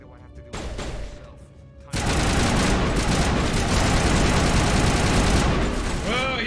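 Sustained turret gunfire in the Mass Effect 1 video game, a dense loud barrage that erupts after a short quieter stretch and continues unbroken, with a voice briefly heard beneath it.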